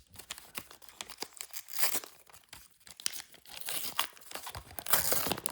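Foil wrapper of a 1989 Upper Deck baseball card pack being torn open, close and loud, with repeated crinkling and ripping bursts that build toward the end and no talk.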